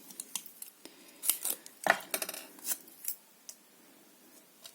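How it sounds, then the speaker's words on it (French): Small scissors snipping paper or card for handmade card making, a handful of sharp, close clicks and snips scattered unevenly over a few seconds in an otherwise quiet room. "Un petit ciseau."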